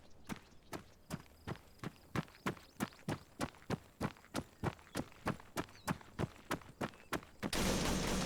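Gunfire in a video game mission: about twenty sharp, evenly spaced shots in a steady rhythm, moderately close, ending in a sudden burst of loud noise.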